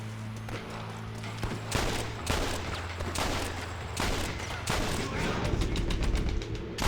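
Dense, steady gunfire in a Red Dead Redemption shootout, with repeated loud shots and bursts crowding the whole stretch over a low droning background, with some voices mixed in.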